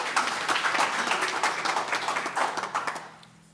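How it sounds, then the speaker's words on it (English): A room full of people at a school board meeting gives a round of applause, dense crisp clapping that fills the whole moment and fades toward the end. "Nice round of applause, please"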